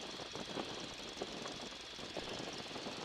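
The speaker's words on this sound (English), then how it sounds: "Because you can hear the airplane." A Boeing Stearman biplane's engine drones steadily in flight at moderate distance, with a slightly rough, pulsing texture and no talking.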